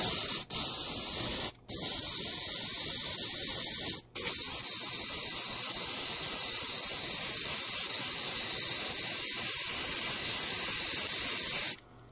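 Airbrush spraying AK Real Colors paint thinned with AK Real Colors thinner, a steady close, loud hiss running almost continuously with two brief cutoffs early on before stopping near the end.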